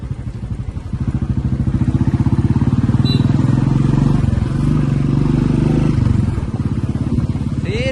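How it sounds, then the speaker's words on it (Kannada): A 500cc motorcycle engine and exhaust pulse close by with a steady, loud rapid thump, rising and easing through the gears, with no talk over it. "ನೋಡ್ರಿ ಎಲ್ಲ ಹೆಂಗ್ ನೋಡ್ತಾರೆ, ಗಾಡಿ ಸೌಂಡ್ಗೆ ತಿರ್ಗಿ ನೋಡ್ತಾವ್ರಲ್ಲ ಅರ್ಧ"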